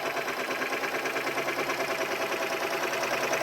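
A Happy Japan HCS3 embroidery machine's main shaft spins steadily with a fast, even mechanical whir and rapid rhythmic ticking, close and continuous throughout.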